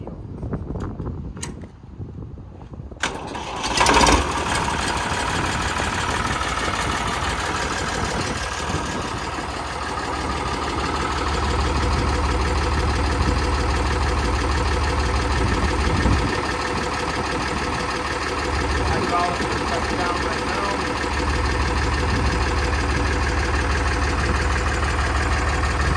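A 1962 Lamborghini 2R tractor engine fires up after a few seconds of quiet and settles into a loud, steady, close-up running drone with a deep low thrum that holds for the rest of the clip.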